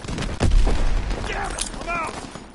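Hip-fired gunfire in a World War 2 shooter game, a burst of rapid shots with booming low end near the start, then fading under scattered battle noise and a voice talking.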